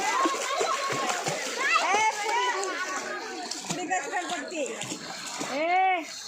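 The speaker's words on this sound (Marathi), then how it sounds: "मस्त उड्या मारते पाण्यात" A young girl splashes and jumps in water at a temple site in a village during summer holidays, with bursts of splashing under lively children's chatter and shrieks close by.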